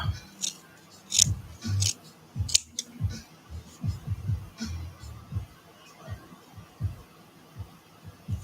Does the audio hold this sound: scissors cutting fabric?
yes